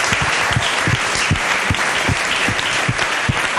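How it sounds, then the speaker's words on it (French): Loud, sustained audience applause at a children's celebration, dense clapping from a crowd with a few sharper individual claps punching through, close and continuous without talk. "Voilà, on applaudit très très fort."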